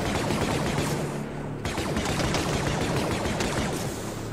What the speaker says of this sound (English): How do I cool down the gun? Why can't I shoot straight?